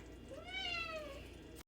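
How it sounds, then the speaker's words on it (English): A house cat lets out a single rising-and-falling meow, faint and a little distant, heard alone in a kitchen. "That's my cat again."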